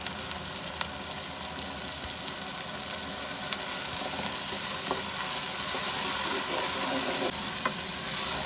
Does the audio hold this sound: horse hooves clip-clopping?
no